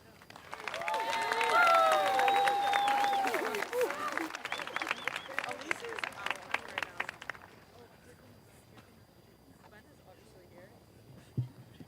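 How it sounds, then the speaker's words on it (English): Graduation crowd at Greater Latrobe High School in 2024 gives the choir a round of applause. Clapping swells over the tail of sung voices, then thins out into scattered claps and fades to near quiet. "Can we have one more round of applause for our choir?"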